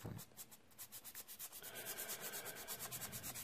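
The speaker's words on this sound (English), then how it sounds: "back to the sanding." Light rhythmic rubbing of sandpaper on a model aircraft propeller being balanced, a quick run of close, steady strokes that grows slightly stronger, with a louder knock at the very end.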